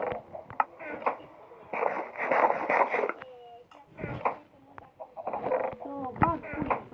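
Video game chickens cluck in repeated short bursts, with people talking between and over the clucks.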